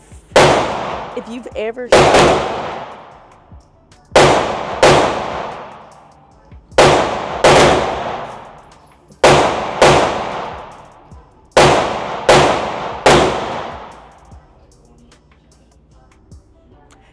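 Loud, close semi-automatic gunfire from a PTR MP5 clone, fired in spaced pairs and triples with long echoing decays between shots; a brief voice is heard near the start.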